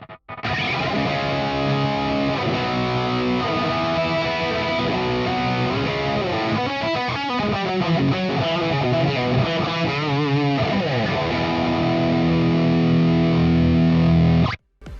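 A high-gain distorted electric guitar solo through a Nux Trident multi-effect's patch C, sustained lead lines with bends and fast runs, loud and steady throughout, no voice.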